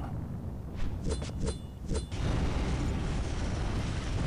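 Explosions in the horror video game Clive Barker's Undying: a cluster of four or five booming bursts within about a second, followed by a steady, loud roaring rumble like fire, with no talking.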